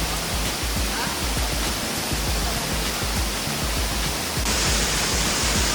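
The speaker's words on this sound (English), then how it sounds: "which is called Shaktikhor Waterfall" Shaktikhor Waterfall in the hills of Nepal gives a steady, loud, broadband roar of rushing water that fills the scene without pause.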